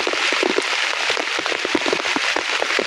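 Heavy rain pours down steadily during a storm, a dense continuous hiss with close, irregular drop impacts pattering on a surface throughout.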